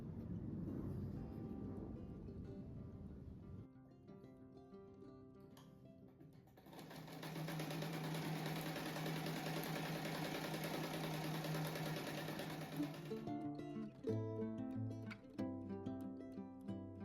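Sewing machine stitching fabric scrap squares together for a patchwork rug, running in steady loud bursts with a long continuous stretch in the middle, then shorter runs, no talking.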